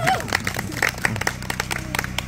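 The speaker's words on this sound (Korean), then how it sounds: "큰 박수로 맞이해주시기 바랍니다." An audience at an outdoor arts association event claps and applauds, scattered hand claps over background music and murmur, moderately loud.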